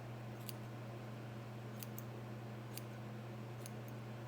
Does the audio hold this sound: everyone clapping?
no